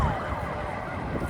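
An emergency vehicle siren sounds from traffic on a nearby freeway at night, its wailing tone sweeping over a steady rumble of road noise, fairly loud and clear.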